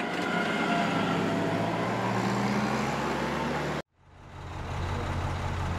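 A loaded truck carrying pallets of cement bags runs steadily at a cement plant, giving a loud continuous engine rumble that cuts off abruptly near the end and then returns more quietly.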